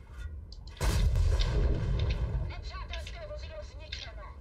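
A tank cannon shot lands in a World of Tanks match, a sudden loud, deep boom with a rumbling tail that fades over a few seconds, followed by quieter game noises and short tonal beeps.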